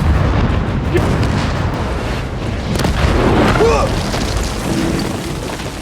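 Bombs dropped in an air strike against enemy fighters, a heavy rumbling boom that rolls on for several seconds with a deep sustained roar, loud and close.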